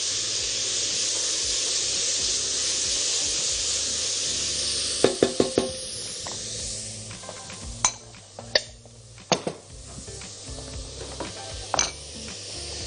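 Onions, carrots and peas sautéing in olive oil give a steady low sizzle and hiss throughout, broken by several sharp clinks and scrapes of a utensil against the pan in the second half.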